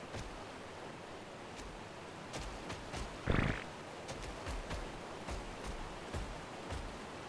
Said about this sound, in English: This waterfall is kind of amazing.